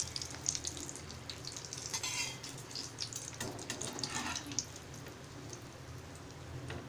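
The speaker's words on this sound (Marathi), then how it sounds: "आता छान आपण तळून घेऊया तेलामध्ये" Steady sizzling and bubbling of pea samosas deep-frying in hot oil, a continuous crackling hiss with small pops, fairly close and moderately loud.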